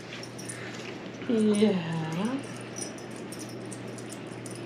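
A puppy lets out a single drawn-out, wavering whimper of about a second, close and clear above a steady low hum, while a person speaks softly nearby.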